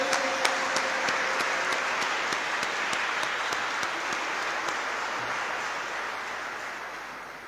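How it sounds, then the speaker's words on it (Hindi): A church congregation applauds at the unveiling of the Jubilee Year 2025 logo at the Archdiocese of Lahore, sustained clapping with a few sharp louder claps standing out, fading slowly toward the end. "आप सबकी भरपूर तालियों में"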